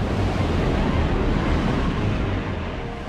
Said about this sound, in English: Here the clipper crews flew into the teeth of a raging storm.